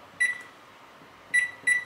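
Microwave keypad beeps while a cooking time is set for a cup of tempura udon noodle soup, one clear electronic beep followed after a pause by two more in quick succession.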